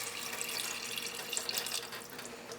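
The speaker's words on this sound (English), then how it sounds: "add the water for the gravy. I'm adding almost 1 cup of water." Water pours steadily into a pan of potato and cauliflower curry to make the gravy, a continuous close splashing stream with no talking.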